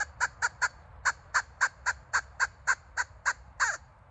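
Squeezed squirrel call giving a rapid series of about fourteen sharp, squeaky, high-pitched chirps in a steady rhythm, close and fairly loud, with no talking.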